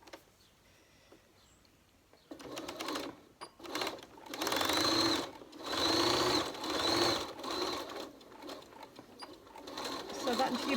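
A sewing machine stitching the pleats of an envelope face mask runs in several close bursts after a quiet start, its rapid needle rattle stopping and restarting.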